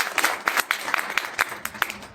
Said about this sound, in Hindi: विनोद जी भूतरा के लिए एक ताली बजा